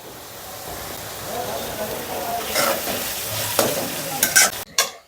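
Onions fry in mustard oil for beef biryani until reddened, giving a steady close sizzle with stirring scrapes that grow louder and more frequent toward the end.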